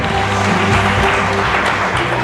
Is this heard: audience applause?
yes